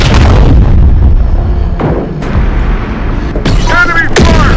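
Gunfire and heavy booms in the video game Terminator: Dark Fate – Defiance: repeated loud blasts, several sharp shots in quick succession, with a voice calling out briefly near the end.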